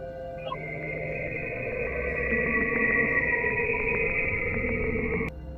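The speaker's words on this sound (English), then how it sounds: "Saturn emits radio waves, deep, oscillating pulses that can be picked up and translated into audio." Saturn's radio emissions converted into sound: a steady, eerie droning tone with layered harmonics and a faint pulsing texture that cuts off abruptly near the end.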